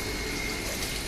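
Water pours and rushes steadily into a washing machine drum, making a continuous, full splashing flow that stays close and even with no voices.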